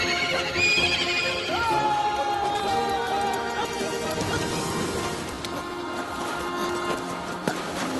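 A horse neighs loudly in a dramatic film scene set in Rajasthan, a long whinny rising over a busy soundtrack of music and effects, with hoofbeats and movement blending in underneath.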